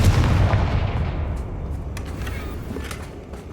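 A single heavy boom from the Confringo explosive spell in the video game Hogwarts Legacy, loud and close, decaying into a long rumbling tail with faint crackles.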